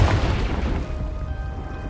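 Confringo blasting spell explosion in Hogwarts Legacy, a heavy booming blast with deep rumble that decays over two seconds, loud and alone.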